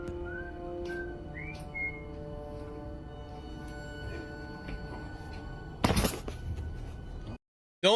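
A person whistles a few short rising notes near a camera set on a table, with steady room noise beneath and a sudden loud burst of sound near the end.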